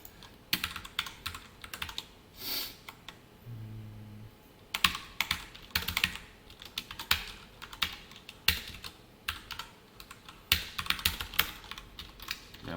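Code is typed on a computer keyboard during a JavaScript and jQuery lesson: close, irregular bursts of keystrokes with short pauses between runs, and no talking.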